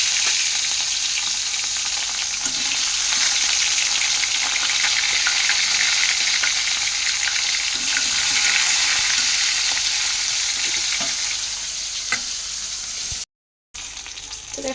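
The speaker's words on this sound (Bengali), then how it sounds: "তো চলো মাছগুলো ভেজে নিই।" Fish sizzle steadily in a frying pan in a Bengali home kitchen, a close, continuous crackle with small spitting pops. The sound drops out completely for a moment near the end, then returns.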